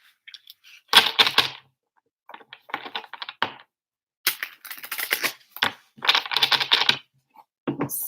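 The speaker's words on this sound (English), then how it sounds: "Let's start shuffling" Cards of a tarot deck shuffled by hand in quick riffling bursts, loud and close, with brief pauses between rounds.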